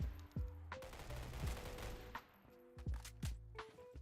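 Rapid video-game gunfire using explosive ammo, firing in quick repeated bursts with sharp cracks over a low rumble. The bursts are quiet and come with short pauses between them.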